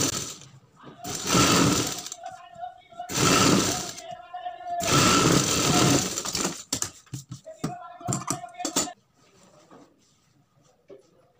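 A sewing machine stitches a blouse sleeve in three loud, steady runs of a few seconds each, then gives a few short stuttering bursts before quieting, close up with no talking.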